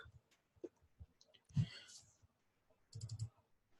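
A few quiet clicks and taps on a computer keyboard come in short bursts, close to the microphone and faint, with soft background noise.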